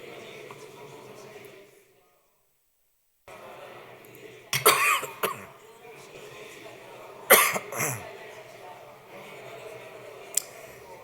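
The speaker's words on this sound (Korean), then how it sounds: "물을 한 잔 마셨던 또 여기 숨구멍으로 들어가가지고 지금 기침이 나오네" A few sharp coughs break out after a short silence during a church sermon, close by and loud, with some throat clearing and quiet movement between them.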